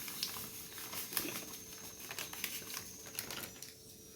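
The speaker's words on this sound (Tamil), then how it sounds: "ஒரு பாத்திரத்தில் கொட்டிக்கலாம். 200 கிராம் ரவை" Dry white semolina (rava) poured into a vessel, a soft continuous grainy patter with small crackling ticks, close and fairly quiet, with no talking.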